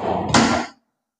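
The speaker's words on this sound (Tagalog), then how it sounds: "Drawer." A cabinet drawer in a modern house being opened or closed, heard as a single short sliding scrape ending in a soft thump that quickly fades to silence.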